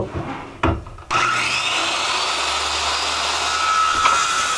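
A saw cuts steadily through a chunk of wood, a loud continuous rasping drone after a few short knocks at the start.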